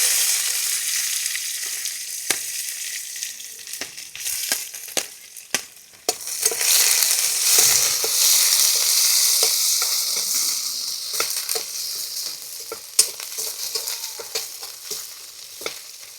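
Onion sizzles in hot oil with cinnamon, cloves and cardamom, giving a steady bright hiss with scattered crackles and spoon scrapes as it is stirred, close and continuous without talk.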